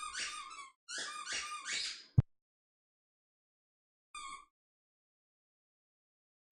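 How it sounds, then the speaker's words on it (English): A dog whimpers and squeaks in two close high-pitched bursts, then a sharp knock and a shorter whine after a pause, all against near silence. "This fucking dog, bro."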